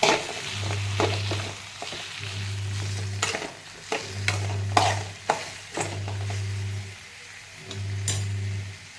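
A mixture of chopped pieces fries in a pan while being stirred, giving a soft sizzle punctuated by close scraping and clinking strokes. A low, regular hum pulses on and off underneath.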